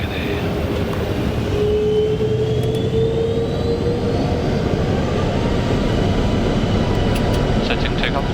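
Boeing 747-400 jet engines roar steadily during takeoff from runway 17, heard from inside the cockpit as a loud, constant broadband rumble with a faint rising whine.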